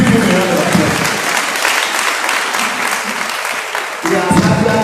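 A crowd at a 2019 presidential campaign event in Ondo State applauds loudly and steadily, with a voice over the clapping at the start and again at the end.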